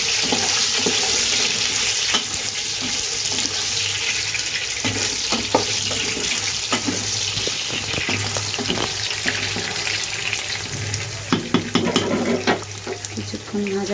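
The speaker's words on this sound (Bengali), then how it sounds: "কিছুক্ষণ ভাজা হবে।" Potatoes frying with salt in a pan for a spicy mutton curry, a steady close sizzle with intermittent clatter of stirring throughout, no one speaking.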